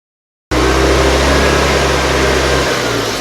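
An EZGO gas golf cart engine starting after a repaired ground wire, then running steadily with a loud, close, even drone and low thrum after the throttle is pressed, the deep rumble dropping away near the end.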